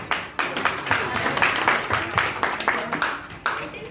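A group of old school friends at a 2004 SSC batch reunion party claps together, a short burst of scattered hand clapping lasting a few seconds, close and lively, with voices mixed in.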